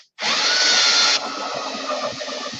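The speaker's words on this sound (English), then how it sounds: "drilling most with the stepper bit" A power drill fitted with a step drill bit bores through plastic, a loud, close, whining grind that starts abruptly and then drops to a lower, rougher tone as the bit cuts through.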